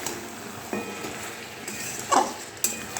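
Chicken fried rice sizzles in a pan while a utensil stirs and scrapes it, producing a soft steady fry with a few louder clinks and scrapes.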